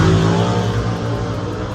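A turbocharged small-block 8.2 deck drag car engine runs loud and close, a dense, steady throbbing roar with strong low harmonics that holds throughout, with no talk.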